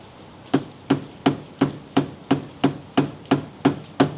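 A hammer strikes a brake adapter on a BMW 1 Series big brake kit install, about eleven hard metallic blows at a steady, even rhythm, close and loud with nothing else heard.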